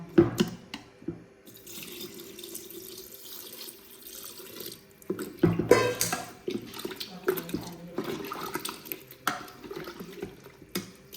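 Water pours into a pot for cooking beef, a steady splashing and trickling stream that runs, pauses, then returns in heavier gushes.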